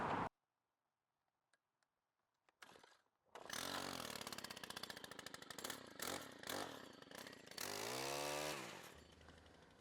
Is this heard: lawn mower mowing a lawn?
yes